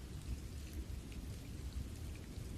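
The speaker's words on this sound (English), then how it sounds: "Not heavily, not loudly, just a gentle rhythm. The kind of rain that does not demand attention, but quietly stays in the background." Gentle rain falling in a steady, soft patter, with a low rumbling undertone beneath the continuous drizzle.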